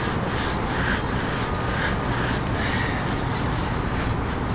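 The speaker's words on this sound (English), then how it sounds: "I think I've been scrubbing it pretty hard." A rubber tire scrubbed hard with a brush during cleaning, a dense continuous rasping rub in repeated strokes, loud and close with no talking.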